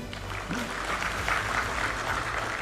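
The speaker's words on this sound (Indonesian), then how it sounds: "Kita berikan aplaus untuk beliau" An audience at a formal government event in Banten applauds the Minister of Agrarian Affairs and Spatial Planning, steady clapping from a crowd filling the room throughout.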